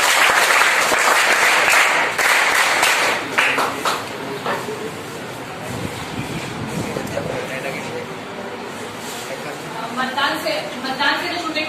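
Audience applause welcoming guests at an election literacy and voter awareness program: a dense round of clapping fills the opening seconds, then thins into scattered claps and rustle beneath a voice over a PA.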